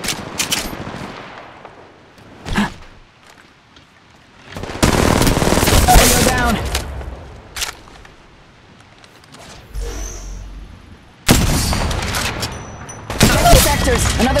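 Gunfire in the video game Apex Legends, with bursts of rapid automatic fire coming in several clusters. Quieter single shots and gaps fall between the bursts, and game voice callouts can be heard.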